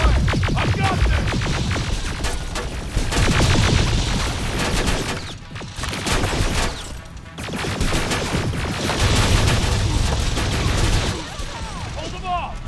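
Gunfire in the video game Terminator: Resistance, dense rapid bursts of automatic shots and crashes in loud sustained volleys with brief lulls, shouted voices mixed in.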